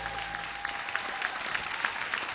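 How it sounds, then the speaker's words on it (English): An audience at a 2013 Silver Pigskin football awards gala claps steadily, a full room of applause continuing evenly from start to end. "a round of applause for Mike Hacker back there, everybody"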